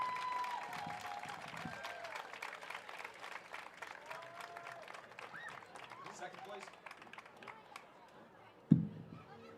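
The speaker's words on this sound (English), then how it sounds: "One more big round of applause for your 2025 Southeastern Extreme Conference" Crowd applause at the 2025 Southeastern Extreme Conference championship football game between the Freedom Cowboys and CCS Colts, steady clapping and cheering from a large gathering with chatter mixed in, ending in a sharp loud thump near the close.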